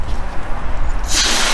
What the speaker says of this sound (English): Spray it, nothing, right?